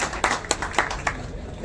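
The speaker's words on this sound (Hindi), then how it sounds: "तालियां बजा दो, तालियां बजा दो एक बार।" A handful of sharp, separate hand claps from an audience at a Hindi public talk, roughly five quick claps over about a second above a low room murmur, then fading out.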